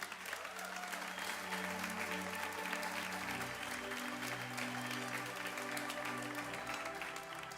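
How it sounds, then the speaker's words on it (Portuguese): Church congregation clapping during a sermon, a broad sustained round of applause with a low hum of crowd voices beneath it, steady and fairly distant throughout. "pode aplaudir o Senhor"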